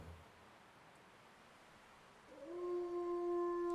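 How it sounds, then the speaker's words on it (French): A wolf-dog's long howl rises out of a quiet, faintly rustling snowy backdrop and holds a steady, clear tone at moderate distance. "Le hurlement du chien-loup reprit"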